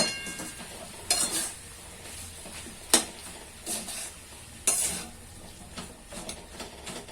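Coriander, cumin and chili powder stirred into a pan over tomatoes, a faint low sizzle broken by several sharp spoon scrapes and clinks against the metal, close and without speech.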